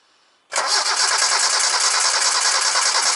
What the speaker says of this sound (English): when we turn the car over